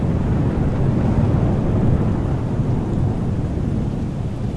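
Rain and thunder inside a Microsoft Flight Simulator hangar: a steady, loud wash of rain with deep rumbling thunder rolling continuously underneath, no voices.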